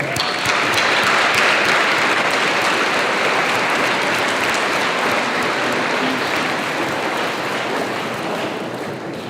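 An audience at a Veterans Day ceremony applauds for a singer, with dense, sustained clapping that stays loud throughout and fades slightly near the end.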